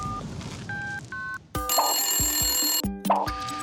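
A telephone ringing while a call is placed, with repeated electronic ring tones and dial beeps over a bright studio music bed, loud and close.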